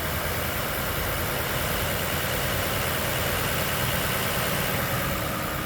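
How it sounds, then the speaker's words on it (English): A 26-62a engine runs at idle with a loud, steady, dense rumble that stays even from start to finish, close to the listener. Nobody speaks. "The engine is running."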